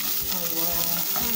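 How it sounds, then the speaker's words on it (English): Garlic, ginger and fresh turmeric frying in a pot to golden brown for pilau, a loud, continuous, close sizzle with stirring scrapes throughout. "we will fry this until it is all"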